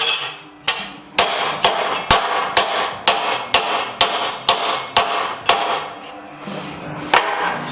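A hammer flattens a piece of metal with about a dozen sharp, ringing blows in a steady rhythm, loud and close, with a brief pause before the last strike.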